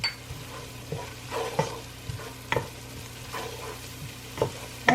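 Softened onions and parsley frying in a pan are stirred, irregular scraping and clacking strokes over a low, steady sizzle, close and without speech.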